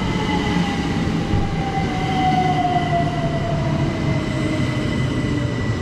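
A British Rail Class 375 electric multiple unit arrives at a platform in East Sussex, with a loud continuous rumble and a slowly falling motor whine throughout.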